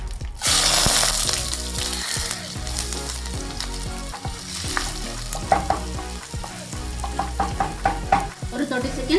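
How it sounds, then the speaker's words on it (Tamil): Chopped ginger fries in hot oil with a continuous close sizzle, broken by repeated scraping stirs and light clinks of a spoon against the pan. "ஒரு 30 செகண்ட்ஸ் வந்து இஞ்சி ஃப்ரை ஆகிற வரைக்கும் வெயிட் பண்ணிக்கலாம்."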